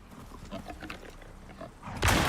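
A wild boar in the survival game Icarus gives low grunts and snorts in short bursts, then a louder rough blast of noise at the end, with no talking.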